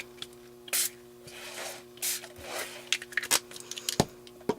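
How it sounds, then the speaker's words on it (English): Several short hissing spray bursts, close up, with brief pauses and light handling clicks between them. "And we're going to spray."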